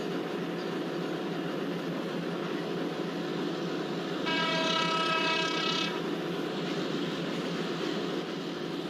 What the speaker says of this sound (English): let's apply the brake and let's slow down our train.